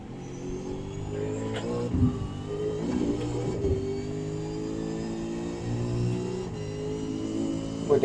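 A V8 Supercar engine in a sim racing game at Canadian Tire Motorsport Park drones continuously through acceleration, its pitch rising and dipping with gear changes at a steady, moderately loud level.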